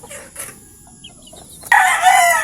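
Chickens cluck and crow at a small backyard coop at feeding time, with soft scattered clucks followed by a loud, close rooster crow that fills the last second.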